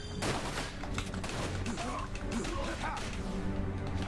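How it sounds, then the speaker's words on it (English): Machine gun fire in the Dirge of Cerberus: Final Fantasy VII video game, dense rapid bursts of gunfire with crashing impacts, loud and continuous, mixed with a person talking. "There's some machine gun bullets."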